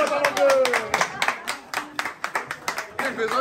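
A group claps in a kitchen, rapid uneven bursts of hand claps under lively chatter, people talking over the applause throughout.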